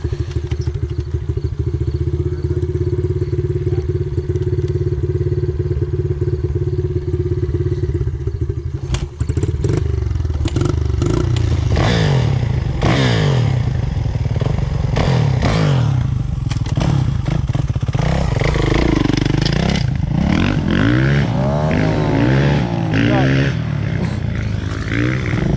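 A dirt bike engine runs, idling steadily and then revving hard in repeated rising bursts, with clatter and thumps close by; people talk over the engine.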